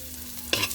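Onion, garlic, ginger and lemongrass tips frying in a pan while being stirred, a soft steady sizzle with a brief louder scrape of the spatula near the end.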